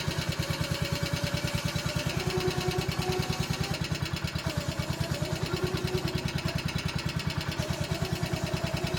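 A running 1976 tractor with a hydrostatic drive idles close by, its engine putting out a steady, fast low-pitched chug with a faint whine on top, even and unbroken throughout.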